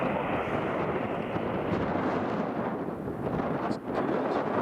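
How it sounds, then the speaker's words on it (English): An Etihad Boeing 787-9 Dreamliner passes overhead near Newcastle International Airport as a broad, steady jet roar, fairly loud and continuous with a rumbling wind-like texture. "Etihad 787-9 Dreamliner from Abu Dhabi to JFK is just about to go overhead as well."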